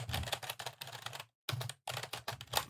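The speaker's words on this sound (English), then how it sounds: "I want you all to hear what it sounds like when I'm typing on my keyboard" Rapid, dense clattering of keys on a high-tactility computer keyboard, fast bursts of typing with two brief pauses, close and fairly quiet, with no talking over it.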